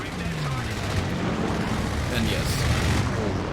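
Strafing gunfire in the video game Company of Heroes 3, arriving as two strafes in quick succession: a dense, steady roar of automatic fire and blasts that runs continuously beneath someone talking.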